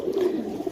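Pigeons coo in a soft, continuous low murmur close by at a pigeon sale, with a few short throaty pulses and no talk over them.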